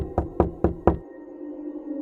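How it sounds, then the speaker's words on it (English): Four sharp, evenly spaced knocks on a door ring out close and loud, followed by a faint room hum and quiet. "there came a knocking at the door."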